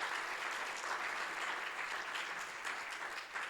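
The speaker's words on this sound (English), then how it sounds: "Let's give the CPB a round of applause." Steady applause from an audience, a dense wash of clapping that holds at an even level throughout, with no voices on top.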